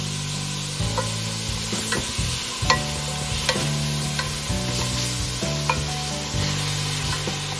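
Ginger frying in a pan sizzles steadily while a utensil scrapes and stirs it in repeated strokes, close up with no talking.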